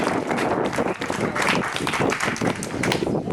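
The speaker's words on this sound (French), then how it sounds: "applaudissements pour Léa et Rika et Aurélie, Sandy" An audience at a dog show applauds a canine demonstration team in an outdoor amphitheatre, with steady, dense clapping lasting several seconds at moderate distance.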